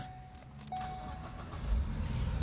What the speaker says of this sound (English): now our car started